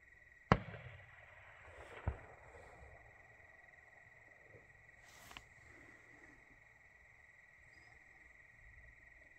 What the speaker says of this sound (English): Shortly after, I hear a gunshot, and then another.